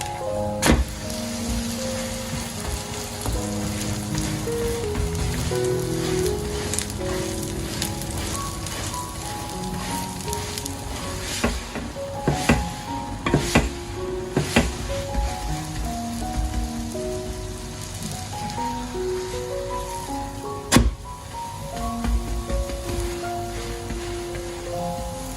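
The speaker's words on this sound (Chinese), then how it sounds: "煎至金黄色，再翻个面继续煎。" A banana and glutinous rice flour pancake fries over low heat in an oiled flat pan, giving a steady, soft sizzle that runs continuously beneath louder melodic background music.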